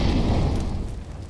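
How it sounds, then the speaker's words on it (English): A flashbang grenade bursts in CS:GO on the de_cache map, one loud, close, dense blast that dies away over about a second. "Deploying flashbang."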